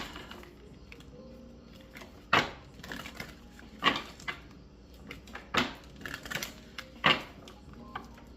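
Several short riffling bursts of tarot cards being shuffled, spaced about a second apart, close by and fairly crisp.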